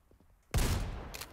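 Gunfire in a horror adventure video game: after near-silence, a sudden loud burst of shots erupts and rolls on as a dense, sustained rattle, with another crack near the end.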